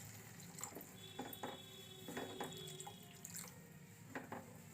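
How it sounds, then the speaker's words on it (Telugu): Water splashes into a cooking pan of puri curry with a faint, running trickle and a few soft clinks. "ఇంకా సగం గ్లాసు వాటర్ వేసుకుందామండి"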